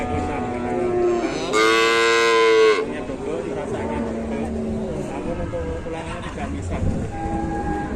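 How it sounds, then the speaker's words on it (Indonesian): A Minang cow lets out one loud, drawn-out moo close by at a livestock market. Several people chat around it, and the busy crowd keeps murmuring after the call stops. "Ini kan sapi Minang."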